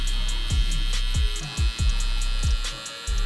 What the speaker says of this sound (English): So now I'm gonna go ahead and take the Andy Authentic Stylecraft Pro trimmer.